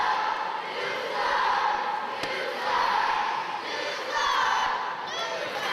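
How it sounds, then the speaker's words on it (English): A wrestling arena crowd shouts and jeers in loud, swelling waves, with dense overlapping voices and rising chants. A single sharp impact cuts through the din midway. "As we hear this crowd voice their opinion"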